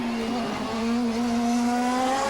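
CART race car sliding through a corner on the final lap, a loud close engine drone with a steady pitched tone sweeping upward, tyres scrubbing beneath it.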